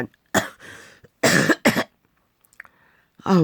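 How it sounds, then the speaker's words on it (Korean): Several bursts of coughing after taking COVID medicine, loud and close, in three separated clusters with a quieter throat sound near the end. "이놈은 코로나 약을 먹기만 하면 이렇게 기침이 자꾸만 나옵니다."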